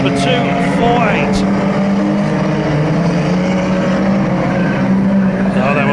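Micro banger race cars at Kings Lynn roar around the oval track, several engines overlapping in a loud, continuous whine and rumble with a commentator talking over them.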